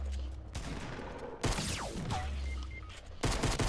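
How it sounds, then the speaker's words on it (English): Video game gunfire comes in dense, loud bursts separated by brief pauses, with sweeping synthetic effects between them and a faint voice underneath. "when we get on top of it, we'll shoot him."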